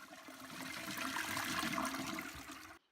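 A toilet flushing in one steady, loud rush of water that swirls and drains for nearly three seconds, then cuts off abruptly into silence.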